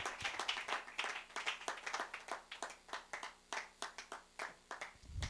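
A church congregation claps in praise to the Lord, quiet but distinctly rhythmic hand clapping with sharp, regular beats repeating throughout, heard from some distance.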